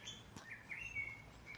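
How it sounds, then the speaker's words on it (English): Birds chirp outdoors on a quiet wooded hill at Kett's Heights, giving a few thin, high tweets and a longer call, faint and distant. "Hope you can hear the birds tweeting away."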